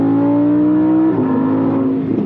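Loud, close revving from a 2020 Lamborghini Huracan Evo: a steady high engine note that drops as the throttle eases, then rough burbling, with no voices.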